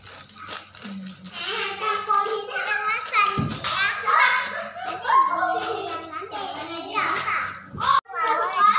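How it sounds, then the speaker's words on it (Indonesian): Young children clapping their hands in a kindergarten classroom during a paper-stamping craft lesson, a scatter of light claps mixed with lively kids' chatter and an adult's voice. "Tepuk tangan buat Jo."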